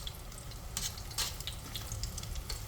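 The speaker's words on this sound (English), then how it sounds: "So that's frying along nicely." Eggplant slices frying in a pan for eggplant parmigiana, giving a steady low sizzle with a few brief brighter crackles and scrapes, near and fairly quiet with no talking.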